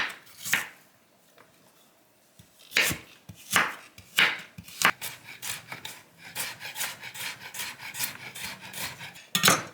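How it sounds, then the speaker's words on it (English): Knife slicing carrots thinly into matchsticks on a cutting board, crisp close taps coming singly at first and then in a quicker steady run. "we're going to go ahead and cut the carrots again"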